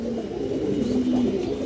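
White Budapest pigeons coo continuously on a pigeon farm, soft rolling calls close by over a steady background murmur of the flock, with no talk.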